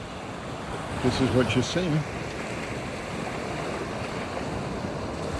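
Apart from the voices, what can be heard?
beach with ocean waves in the morning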